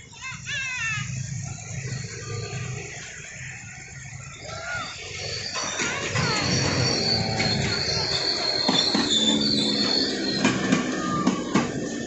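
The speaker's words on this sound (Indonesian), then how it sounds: "kereta api rel listrik KRL atau kereta api komuter ternyata." A KRL electric commuter train passes under a flyover near Jatinegara station in Jakarta, wheels squealing high over a rumbling roll that swells midway, with voices talking throughout.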